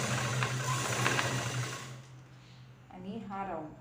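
A sewing machine stitching fabric along a marked margin of a cut dress piece, whirring steadily and loudly for about two seconds before stopping, after which someone talks.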